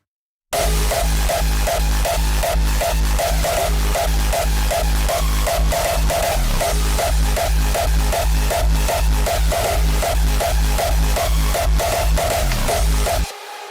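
A loud, driving hardstyle loop with heavy layered kick drums pounding in a steady fast rhythm, dense and distorted, ending abruptly.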